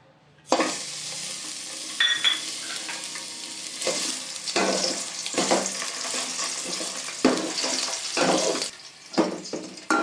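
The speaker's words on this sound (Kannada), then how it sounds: "ಸೊ ಆ ಮೂಳೆನ ಎಣ್ಣೆಲಿ ಫ್ರೈ ಮಾಡಿಕೊಂಡು ಒಂದು ಬೌಲಿಗೆ ತೆಗೆದಿಟ್ಕೊಬಿಡಿ" Mutton bones sizzle loudly in hot oil for a keema ball curry, a steady crackling fry broken by repeated scraping stirs and clattering bursts, close and with no voices.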